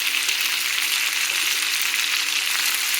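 Spices, dried Kashmiri chillies and garlic frying in a pan for radish chutney, a steady, close, even sizzle with no talking over it.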